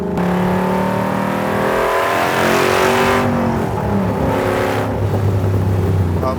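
A Superformance MkIII Cobra R with a 580 hp 5.2 Aluminator engine revs hard and steadily up close, its loud throaty drone rising and falling for several seconds with no talk.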